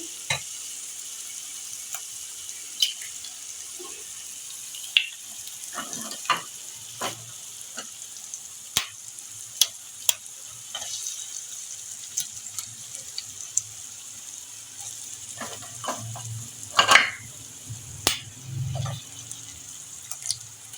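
Eggs frying with tomatoes in a pan, a steady soft sizzle running throughout with scattered spatula taps and scrapes, a brief louder stirring burst near the end, close and moderately quiet.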